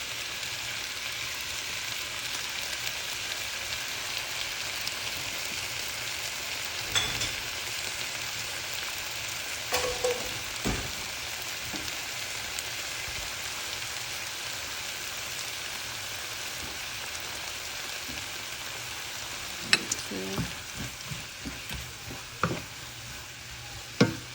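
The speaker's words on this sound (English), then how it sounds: "The Scotch bonnet. If you know, you know. Move that to saute a little bit." Scotch bonnet pepper sautéing in a pan for baked salmon seasoning, a soft, steady sizzle with scattered light stirring clicks and scrapes that grow more frequent toward the end.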